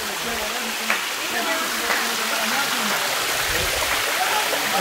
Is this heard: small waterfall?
yes